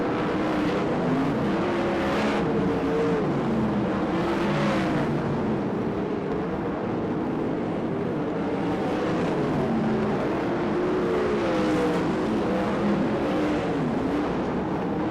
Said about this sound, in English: He puts a lap on David Carty as they go into turn number 3